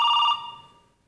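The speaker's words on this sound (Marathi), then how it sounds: "फोन वाजतोय." A telephone rings with a bright, electronic tone, then cuts off and fades away. There is no talk over it.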